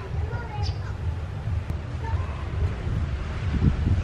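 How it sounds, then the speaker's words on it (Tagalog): Strong outdoor wind buffets a microphone in a vegetable garden, a continuous low rumble with gusts, while a person speaks intermittently over it. "Ang lakas ng hangin."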